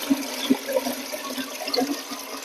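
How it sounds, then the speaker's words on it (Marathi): Water poured into a home fish tank during setup, a continuous splashing, gurgling flow with small bursts throughout, moderately close and heard on its own. "यानंतर आपण यामध्ये पाणी ऍड करणार आहे"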